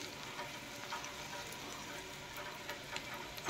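Chopped ginger frying gently in oil in a pan gives a faint, steady sizzle with soft crackles throughout.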